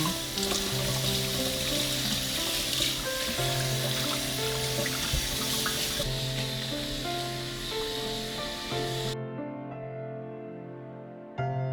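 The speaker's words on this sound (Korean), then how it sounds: "배추를 흐르는 물에 한 3번 정도 씻어주시고요." Napa cabbage for kimchi is rinsed under a running tap, with steady splashing water close by, occasional handling knocks, and the flow cutting off near the end.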